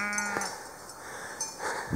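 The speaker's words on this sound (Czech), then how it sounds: "Ovečky." A sheep bleats once briefly on a pasture near a hut in the morning, a faint call against soft outdoor background noise.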